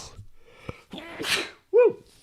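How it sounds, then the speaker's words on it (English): A short sneeze bursts out after some breathy noises, followed by a brief voiced sound. "Allergy sneeze."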